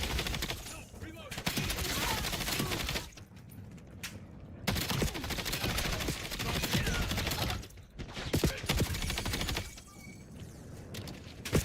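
Incoming gunfire in Call of Duty BO7, loud sustained machine-gun bursts filling most of the stretch with brief lulls between them.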